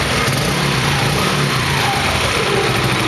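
A Yamaha Mio scooter engine, fitted with a newly installed regulator, is revved in a steady, loud, close drone with no pauses and no voices.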